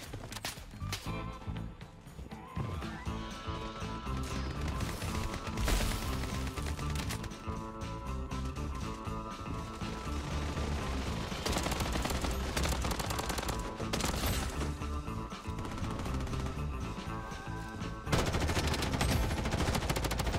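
A SCAR rifle fires in the mobile shooter Bloodstrike in rapid, repeated bursts, with sharp cracks stacked densely over continuous game sound and music for the whole stretch.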